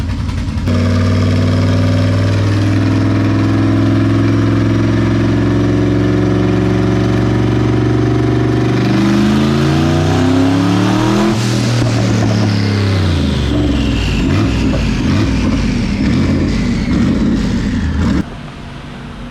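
A loud car engine runs steadily at a fixed speed on a dyno, then revs up with pitch climbing and falling before dropping back near the end.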